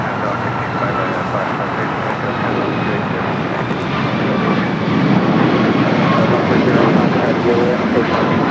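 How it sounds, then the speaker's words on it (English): A Japan Airlines jet taking off from a runway at LAX, a loud, steady broadband engine roar that swells slightly toward the end, with people talking over it. "Japan Airlines staying here for a south side takeoff."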